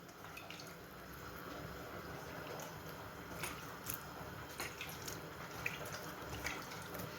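Tap water runs to rinse couscous for Algerian chicken couscous: a faint, steady splashing hiss at low volume with a few small drips and splats, and no voice.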